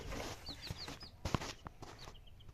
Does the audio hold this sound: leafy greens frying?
no